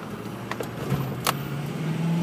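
A Ford F350 crew cab 4x4 with a 6.0L Powerstroke turbo diesel and EGR kit drives along, a low steady engine drone heard from inside the cab with faint clicks and a rising hum, no talking.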